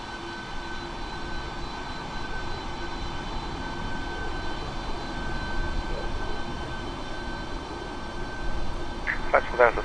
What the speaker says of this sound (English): These engines are so nice and quiet when they're on idle like this.